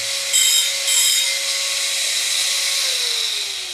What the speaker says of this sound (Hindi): तो इसीलिए ग्राइंडर के सहायता से थोड़ा सा घिसा मैंने ये